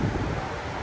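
Strong, gusty storm wind reaching up to 90 km/h, heard outdoors as a brief, loud, unbroken rush of buffeting microphone wind noise with no talking.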